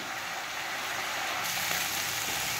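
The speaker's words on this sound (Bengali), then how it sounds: "এটাকে না আমি একটু ভেজে মজিয়ে নেব আর একটুখানি" Vegetables, with tomato, fry in a pan, giving a steady, even hiss of sizzling oil that runs unbroken and close-up with no talking.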